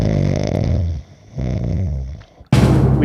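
A man snores loudly and close by in long, rough, rumbling breaths, with a brief quiet gap between snores and another heavy snore starting near the end.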